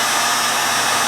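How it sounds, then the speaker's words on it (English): A handheld heat gun blows steadily, a continuous loud airy rush with no variation over its brief run. "So I'm gonna have a go. Heat gun."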